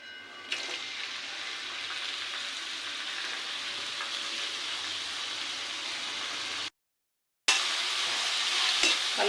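Onions and green chilies frying in hot oil, a steady close sizzle with faint stirring, cut by a brief total silence before the sizzle resumes, with no voices.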